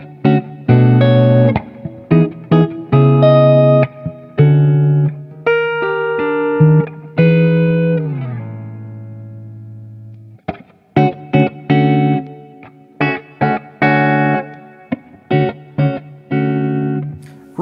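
Clean tone from a budget Les Paul-style electric guitar on the neck pickup with GFS pickups: a run of plucked notes and chords, loud and close, with ringing sustained notes and short pauses between phrases.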